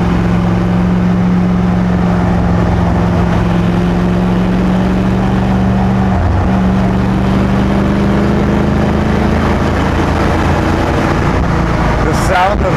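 A 1963 Chevy Corvair Monza Spyder fitted with a 283 V8 engine holds a loud, steady low rumble from inside the car, with a slight pitch shift midway.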